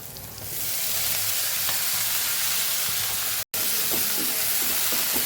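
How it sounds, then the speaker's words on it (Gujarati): Fenugreek greens sauté in a pan with garlic chutney, coriander-cumin powder and salt for a Gujarati methi papdi gathiya curry, giving a steady close sizzle throughout with a few faint stirring scrapes and a brief cut near the middle. "ભાજીને પણ સરસ મસાલા સાથે આપણે સાતળી લેવાની છે।"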